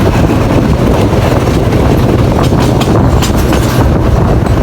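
A train on the Colombo to Batticaloa railway rumbles loudly and continuously, heard up close with faint rail clatter mixed into the steady roar.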